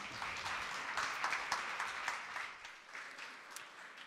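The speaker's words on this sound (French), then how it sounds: "On peut vous applaudir encore une fois." Audience at a dental conference in a lecture hall applauds, a steady wash of many hands clapping, fairly distant and even, tapering slightly toward the end without talk.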